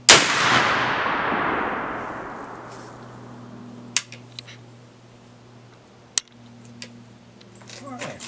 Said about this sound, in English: Third and final shot with 45 grains of 3F in the 45 Hawken.